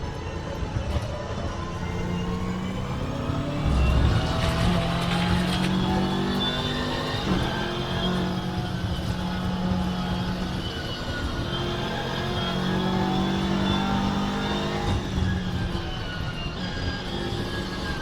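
Race car lapping Croft circuit in Assetto Corsa, engine revs rising and falling through gear changes and corners, loud and continuous with a brief louder burst early on, no speech.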